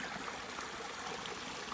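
A small stream runs beside a hiking trail on the Appalachian Trail, a steady, close babble and trickle of water with no break, filling the scene evenly and without voices.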